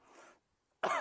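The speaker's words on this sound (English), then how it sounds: "You might feel like coughing a little bit." A noisy burst at the start, then silence, then a second sharp, loud burst near the end, coughs close to the listener after a yoga lion-breath exercise.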